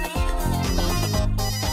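A mobile phone rings with an incoming call from an unknown eight-digit Hong Kong number while a grandmother walks with her granddaughter in a park; a steady, loud melodic ringtone plays throughout without pause.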